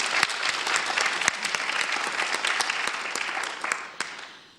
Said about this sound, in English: And I think we deserve a round of applause for that,